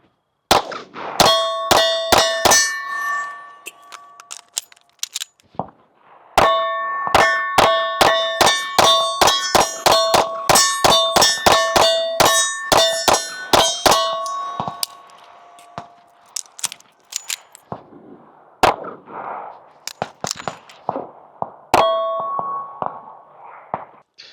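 A Sig Sauer P211-GTO pistol fired in fast strings at steel targets, each shot followed by a bright ringing clang, with a dense rapid run of hits, a brief pause, then a slower set of shots.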